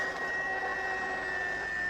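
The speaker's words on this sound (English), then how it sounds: "Well, I'm hoovering. The lawn?" Steady whining drone of a vacuum cleaner being run over a lawn outdoors, constant and moderately loud, with no talk over it.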